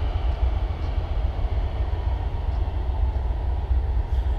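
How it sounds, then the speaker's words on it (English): An Amtrak passenger train passing near a Rocky Mountain campsite, a steady low rumble and rolling roar that holds at a constant level for the whole stretch with no voices. "here you go, it's the Amtrak"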